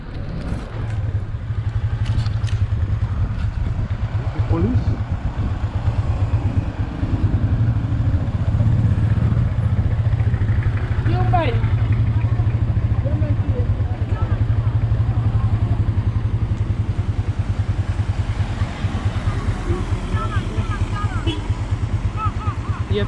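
Steady engine drone from a motorcycle ridden in The Gambia, loud and continuous throughout with wind rumble and road clatter, while people talk intermittently over it.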